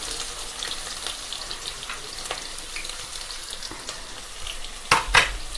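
Cumin, garlic, ginger and whole spices frying in hot oil in a pan, a soft steady sizzle with faint crackles and a couple of louder stirring clatters near the end.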